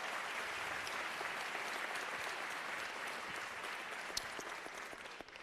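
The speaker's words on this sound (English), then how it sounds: "Let's give him a round of applause for that" A town hall audience breaks into sustained applause, a dense, even wash of clapping that holds steady before thinning slightly at the end.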